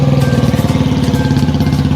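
Motorbike engine running on a trip through flood-hit village areas, a loud, close, steady low throb with an even pulsing rhythm, no voices over it.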